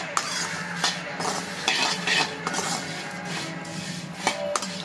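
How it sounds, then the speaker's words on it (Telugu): Prawn heads dry roasting in a pan without oil while being stirred, with close, repeated scraping and clinking of a spoon against the pan over a soft sizzle. "ఉత్తిగానే వేపుతాను, నూనె లేకుండా."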